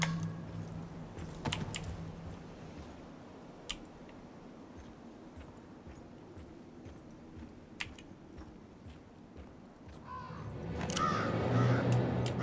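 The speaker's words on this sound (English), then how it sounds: "Oh, you fucking crow." In the Tomb Raider game, a crow caws a few times over quiet ambience, mixed with sharp clicks of a computer keyboard being typed on nearby and a rise of background noise toward the end.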